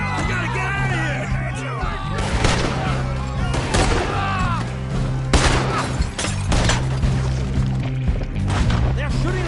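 Gunfire in the Red Dead Redemption video game on PS4, repeated shots and bursts crackling through a dense mix of music and shouting voices, loud and sustained throughout.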